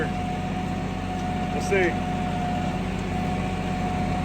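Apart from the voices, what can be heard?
tractor engine running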